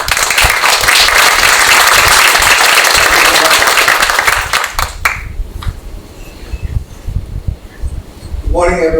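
A conference audience at an Asian American business roundtable applauds a speaker onto the stage, a dense, loud wash of clapping for about five seconds that then cuts off into quiet room noise.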